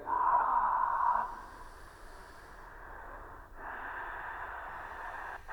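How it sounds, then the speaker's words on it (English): Slow ujjayi breaths drawn through the nose with a soft hiss in the throat, one long airy exhale then a quieter pause and another sustained breath, close and alone. "When you exhale, so the breathing is through your nose, but you hear it in the throat. This is called ujjayi breathing."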